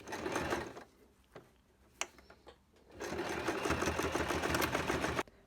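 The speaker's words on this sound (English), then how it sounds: "when you're doing your sewing, this is basically one single stitch" Sewing machine stitching a cloth mask with a filter pocket, heard as two close bursts of rapid mechanical stitching separated by a quieter pause with small clicks, no talk.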